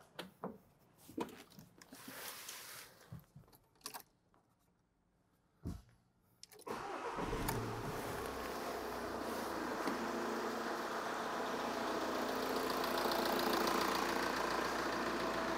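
An engine turns over and catches at about seven seconds, then settles into a steady, loud idle, with faint handling clicks before it starts.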